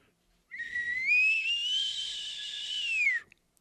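A person whistles an imitation of an elk call: one long, clear, high whistle that rises gradually, holds steady for about two and a half seconds, then drops off, close and alone in quiet.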